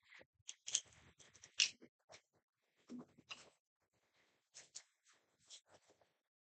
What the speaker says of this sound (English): I'm going to just cut around the edge and cut any excess off